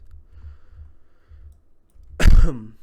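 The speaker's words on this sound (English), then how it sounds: "Sorry for coughing, I just have a slight cold." A single short cough breaks through near the end, preceded by faint quiet clicking in a still room.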